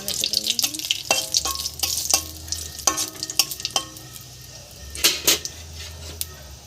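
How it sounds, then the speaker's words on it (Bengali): Dried red chillies and panch phoron stir-fry in a pan, a continuous sizzle punctuated by sharp clanks and scrapes of a spatula against metal, near and busy, with faint low hum in places. "লঙ্কা, পাঁচফোড়ন, দিয়ে নাড়াচাড়া করব।"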